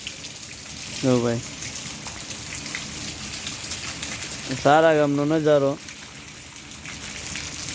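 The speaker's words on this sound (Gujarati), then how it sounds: "અને સારા ગામમાં અત્યારે વરસાદ ચાલુ જ છે, થોડો બહુ નથી પણ થોડો ચાલુ જ છે." Steady rain falls over a village in a continuous, even hiss, while someone talks briefly over it.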